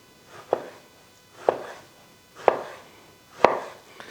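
A knife chops through a yellow peach on a board for a salad, four crisp, evenly spaced cuts about a second apart, close and clear with no talk.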